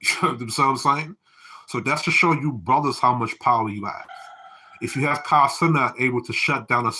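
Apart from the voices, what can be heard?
No everyday noises stand out.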